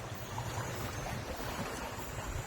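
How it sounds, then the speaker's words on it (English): Water rushing through the fish ladder at the Pitlochry hydroelectric dam, a steady low roar and hiss of flowing water with a little wind, heard alone. "That's the fish ladder there. So there's gaps further down, and a certain amount of water flows through it."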